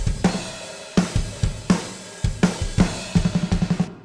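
A drum kit plays a steady groove with punchy kicks and snare hits, each washed in a large, roomy reverb tail.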